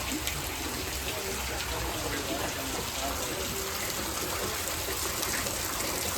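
Rain falls in a village near Botad, a steady, even hiss of drops that holds unchanged throughout, soft and fairly distant with no breaks.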